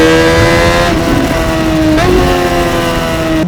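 A Honda CBR600RR's inline-four engine revs in a high, sustained scream, its pitch dipping and rising again as the throttle changes, loud and close with no talking.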